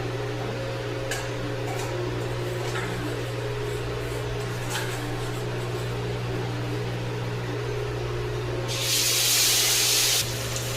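Fish roe frying in hot oil, a continuous hissing sizzle under a steady hum, with faint pops and a louder spattering burst near the end.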